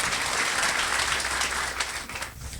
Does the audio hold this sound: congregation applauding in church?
yes